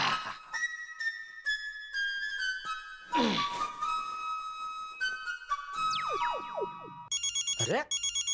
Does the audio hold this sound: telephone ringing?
yes